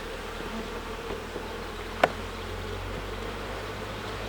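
Steady drone of honey bees around an open Alpine hive, close and continuous, with one sharp click or knock partway through.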